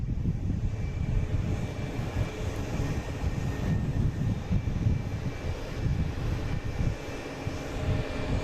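An airliner painted in the Blueprint livery comes in to land, its engines giving a steady, fairly close low rumble that holds for the whole stretch with no voices over it.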